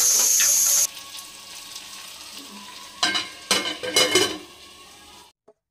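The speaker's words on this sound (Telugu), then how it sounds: "ఇప్పుడే అల్లం వెల్లుల్లి పేస్ట్ కూడా వేసుకుని బాగా కలుపుకొని ఒక 15 నిమిషాలు బాగా మగ్గనివ్వాలండి." Crab curry masala with ginger garlic paste cooks in a pan, opening with a loud sizzling hiss that quickly fades, followed by several bursts of spoon scraping and stirring before the sound cuts off.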